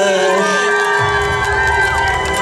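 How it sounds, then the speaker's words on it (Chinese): An outdoor crowd at an evening concert in a public park in Yonghe cheers and screams loudly and continuously, with high-pitched shrieks rising above the dense roar. "给我们漂亮的主持人热情的掌声加尖叫声"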